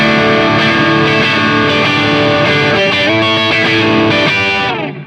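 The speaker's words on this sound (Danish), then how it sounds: "Det er bare helt umiskendeligt tonen af en Les Paul." A Gibson Les Paul electric guitar with humbuckers played in the middle pickup position through distortion, loud sustained ringing chords with bright treble, fading out at the end.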